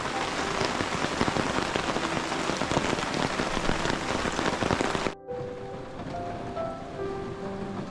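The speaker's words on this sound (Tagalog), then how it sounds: "Grabe, lakas ng ulan." Heavy rain pounding hard on a surface, loud and continuous, then cutting abruptly to a quieter scene with faint tones.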